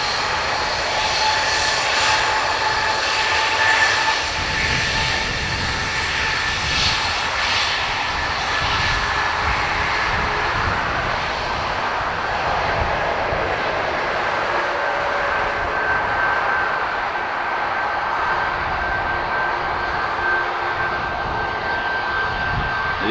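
Jet engines of a Boeing 787 Dreamliner at Dublin Airport, a steady, broad roar with a thin high whine riding on top, holding at an even loudness throughout with no talk.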